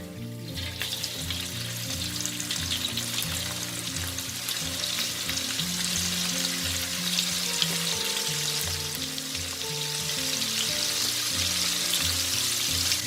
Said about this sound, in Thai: การทอดวิธีแบบนี้นะ เห็นไหมว่าเราสามารถทอดแหนมของเราค่ะ น้ำมันจะไม่เสียด้วยนะคะ